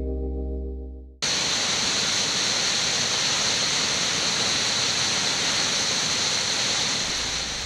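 Big Clifty Falls, a 60-foot waterfall in Clifty Falls State Park, roars in as a loud, steady broadband rush of falling water that starts abruptly after a brief quiet moment and holds constant throughout, with no voices.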